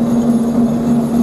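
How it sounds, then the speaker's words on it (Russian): Tractor engine running while the machine drives backward, a loud, steady low droning hum with a strong constant tone, heard close with no talk. "Едет трактор назад."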